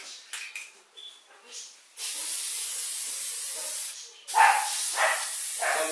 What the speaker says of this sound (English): This is the activator that I'm going to be using. I'm going to spray an even coat.